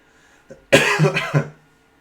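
A single short cough, fairly close, with a brief throat-clearing rasp, then quiet.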